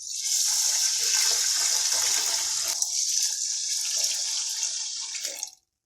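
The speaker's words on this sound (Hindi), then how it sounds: "आधा लीटर हम इसमें पानी ऐड करेंगे।" Half a litre of water is poured into a pot of soaked rice for kheer, a loud, steady splashing gush lasting about five seconds before stopping abruptly.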